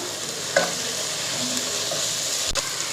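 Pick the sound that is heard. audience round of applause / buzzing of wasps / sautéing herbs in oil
sautéing herbs in oil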